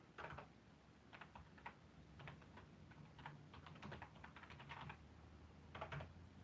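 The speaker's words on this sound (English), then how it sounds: "I'm not a brilliant typer, even though I did typing at school." Typing on a computer keyboard in quiet, irregular bursts of soft key clicks with short pauses between runs, close but low in level and with no talk over it.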